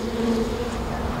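Bees buzz in a vegetable garden with a steady, close drone that stays even in loudness, with no talking.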